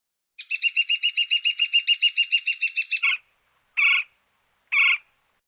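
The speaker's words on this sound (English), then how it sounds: "Woodpecker." A woodpecker gives a fast rattling series of about twenty sharp repeated notes, followed by two separate single calls, bright and close in an otherwise quiet setting.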